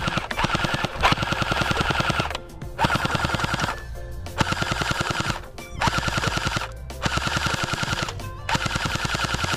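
An Unlocx 4-in-1 gel blaster fires fully automatic in rapid bursts of about eleven shots per second, loud and close, with several sustained strings of fire separated by brief pauses.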